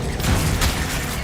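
Heavy booming blast of the Confringo blasting spell in Hogwarts Legacy, a single loud, close, dense explosion that fills the whole moment with no speech.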